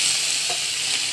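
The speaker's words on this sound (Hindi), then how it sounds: "चलिए इसमें हम लोग टमाटर डालते हैं, मैंने दिया है 4 बड़े टमाटर" Chopped tomatoes dropped into a pan of frying ivy gourd with chana dal, a loud continuous hiss of hot oil that cuts off sharply at the end, no talking.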